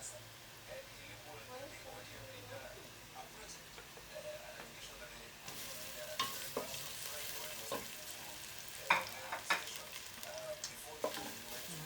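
Nile perch frying in a pan with garlic and green pepper, a steady sizzle with scattered clicks and scraping stirs that grow busier and louder partway through, with someone talking over it at times.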